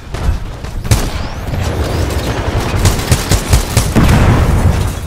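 Combat noise from the video game Titanfall 2 as a tick explosive detonates: a loud sharp blast amid dense gunfire and booming impacts, continuous and busy throughout.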